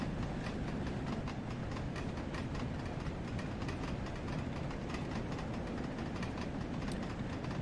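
A steam locomotive in Train Sim World 2 pulls away toward a hill on a rail tour near Runcorn, giving a fast, steady train of chuffs under a constant rumbling background at moderate volume.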